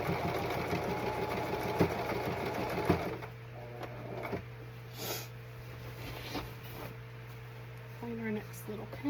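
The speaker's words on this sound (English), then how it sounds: "we will just pull and sew." Sewing machine stitching black striped pants, a close, rapid mechanical whirr in short bursts that stop and restart as fabric is pulled through, with a steady motor hum beneath and a few faint handling clicks.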